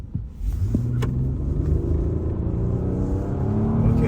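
A 2019 Nissan Pathfinder with a CVT revs hard as it accelerates in two-wheel drive with traction control off, its engine rising in a loud, steady drone that climbs in pitch over several seconds, close and continuous with no talk.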